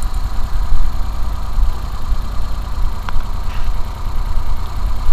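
A Suzuki K6A engine in a DA63T idles with a defective ignition coil on cylinder 3, giving a steady, close, uneven low rumble with constant vibration and no speech.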